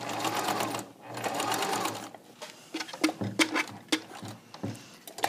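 A sewing machine stitches a waistband casing, a close, buzzing motor run that breaks into short stop-start bursts as the fabric is pivoted. Faint speech is mixed in.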